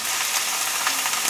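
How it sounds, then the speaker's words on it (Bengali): Sliced onion and green chili fry in hot oil until golden, giving a dense, close, continuous sizzle with small crackling pops throughout. "পেঁয়াজ কাঁচা লঙ্কা বেরেস্তা করছি।"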